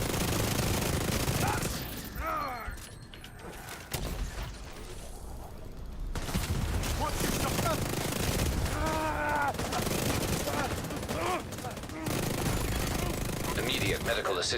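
Mortar blasts and rapid gunfire erupt in a shooter video game, bursts of automatic shots and explosions layered over game audio, dense and loud with brief lulls.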